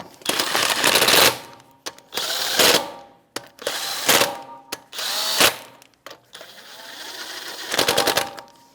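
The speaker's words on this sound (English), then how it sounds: "That's a 19 millimeter socket, and you just want to snug them up" A power tool snugs the lug nuts on a 2016-2025 Chevrolet Malibu wheel with a 19 mm socket, giving five loud, close bursts of rapid hammering, each lasting about a second, separated by short pauses, with no talk.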